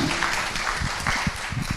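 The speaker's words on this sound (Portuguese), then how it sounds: "Palmas para o professor Marcelo, professora Dora." Applause from the audience at the close of a university debate on the ethics of artificial intelligence, a continuous, even patter of many hands clapping throughout.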